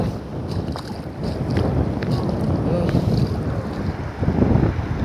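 Boat crossing a river, heard up close as a steady rushing of water and hull wash with heavy wind buffeting the microphone, continuous and fairly loud throughout.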